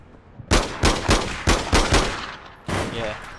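Gunfire in APB Reloaded, a city street shootout: about six sharp loud shots in an irregular burst, then a longer rattling volley near the end, with no talk over it.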